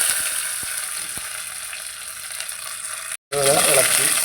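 Cashews and raisins fry in hot oil for a Bakrid biryani, giving a close, steady sizzle with scattered pops that breaks off abruptly in a short silence before resuming.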